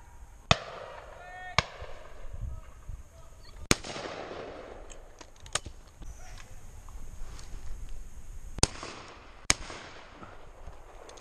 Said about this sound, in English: Good shot, John.